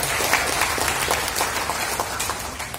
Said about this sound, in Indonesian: Aplaus yang pertama kita perlu sampaikan pada seluruh jajaran panitia di bawah Bung Arifin